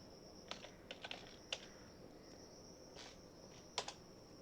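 Keys on a computer keyboard are pressed in quick, irregular clusters of clicks as a name is typed into Microsoft Word. The typing is faint and close, with a steady high background whine and no speech.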